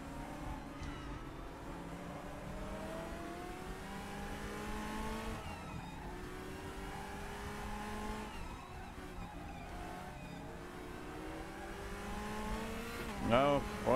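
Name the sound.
BMW race car passing in DTM RaceRoom racing video game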